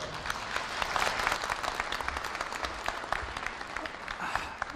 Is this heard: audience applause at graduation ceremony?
yes